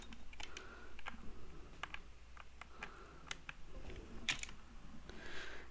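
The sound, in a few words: typing on mechanical keyboard with custom keycaps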